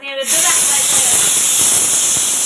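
Steam hisses out of a pot of cooking rice, a loud, continuous rush that starts abruptly after a brief quiet moment and stays steady close by.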